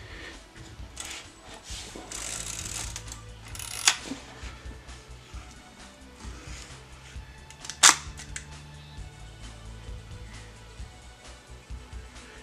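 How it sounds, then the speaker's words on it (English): Zenit TTL 35mm SLR film camera, its advance lever and mechanism producing two sharp, close mechanical snaps several seconds apart, with soft handling clicks and rustles in between. "And I'll advance the film advance lever once again"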